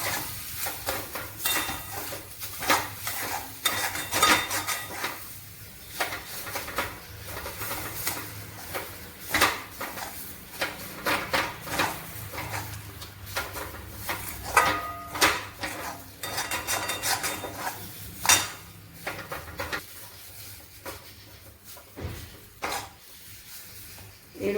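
A chana dal mixture already seasoned with salt and turmeric is stirred and fried in a pan. A utensil scrapes and clatters against the pan repeatedly over a faint sizzle, and the sound stays close and continuous.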